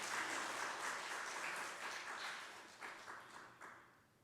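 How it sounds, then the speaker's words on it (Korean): A church congregation applauds during a Sunday worship service, a steady wash of many hands clapping that fades gradually, with a few louder bursts near the end and no talking. "하나님께 영광의 박수를 드리겠습니다"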